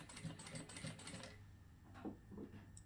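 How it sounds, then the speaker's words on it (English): Jack A4E industrial sewing machine running a short burst of stitches, a quick rhythmic mechanical clatter that stops, then a few quieter clicks of the presser foot; moderately faint and close, no talking. "lift my foot, it'll do 12 stitches, and stop by itself."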